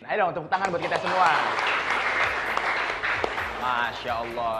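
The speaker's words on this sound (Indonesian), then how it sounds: "Ayo dong, tepuk tangan buat kita semua." An audience claps at a Ramadan children's show, with steady applause under lively talk and excited voices from the hosts.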